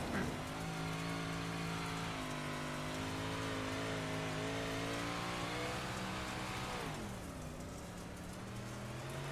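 Race cars at Cedar Lake Speedway roar around the track during a David v. Goliath Series race, loud overlapping engine drones with rising and falling pitch, one shifting sharply as a car passes near.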